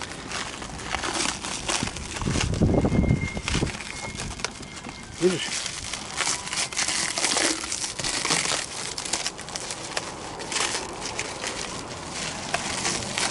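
Adhesive tape crinkles and crackles as it is handled and wrapped around a three-metre pipe being carried on a Soviet Start Shosse bicycle, a mix of rustling and tearing under close conversation outdoors.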